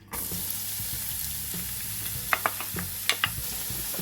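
Steady olive oil sizzle in a frying pan as onion cooks, with a few sharp crackles and pops near the end, close and continuous, no voices.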